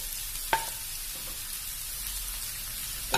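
Chopped onions, three medium ones, drop into hot oil in a pan for a Thalassery prawn dish, giving a steady soft sizzle with a couple of sharp clinks of a utensil, no talking.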